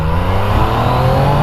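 A 2016 Yamaha XSR900 motorcycle engine revs hard under load, a loud, steady, close-up roar with a rising pitch.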